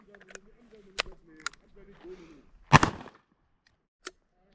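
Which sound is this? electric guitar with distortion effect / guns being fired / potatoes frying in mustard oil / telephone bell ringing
guns being fired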